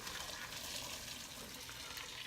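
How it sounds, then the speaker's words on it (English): Homemade chicken stock poured slowly from a pot through a strainer into a bowl, a continuous soft liquid splashing and trickling, close and steady with no talk. "I've just got my strainer in a bowl. Pour it slowly."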